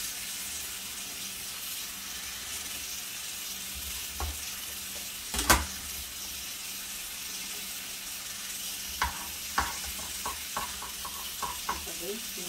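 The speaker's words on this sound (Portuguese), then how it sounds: "Minhas cebola e meu alho refogado aqui no fundo." Onion, garlic and organic ginger sauté in a pot for rice and beans, giving a steady hiss of sizzling oil with occasional stirring clinks and a few sharp utensil knocks near the end.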